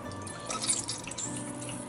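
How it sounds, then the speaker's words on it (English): Soaked bread is squeezed by hand to press the water out while making wild hog and deer meatballs from a 1700s German recipe; a faint, close, brief trickle and drip of water runs alone with no talk. "put this bread in water, get it wet, and then squeeze it out"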